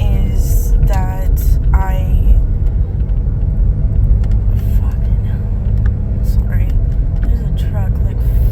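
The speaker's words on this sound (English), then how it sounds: "there's a truck following me, right on me right now" A truck drives close behind a car on the road, its steady low engine rumble and road noise running throughout while someone talks over it.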